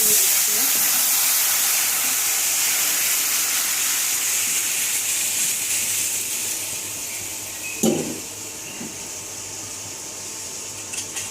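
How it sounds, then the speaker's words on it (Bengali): Panch phoron five-spice hits hot oil before dal is added, giving a loud, continuous close hiss and sizzle that slowly eases, with a brief clatter partway through. "পাঁচফোড়ন দিয়ে দিব ডাল দেওয়ার আগে পাঁচফোড়ন দিয়ে দিলাম"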